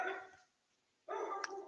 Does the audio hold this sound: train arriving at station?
no